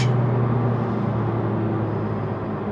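A 2020 Honda Civic Si engine under boost with a slipping clutch gives a steady, loud droning hum inside the cabin, holding an even pitch throughout with no voices.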